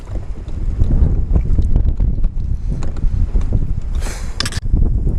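Strong wind at Lake Shawnee in Topeka buffets the microphone in constant, rumbling gusts, loud and close, with no one speaking.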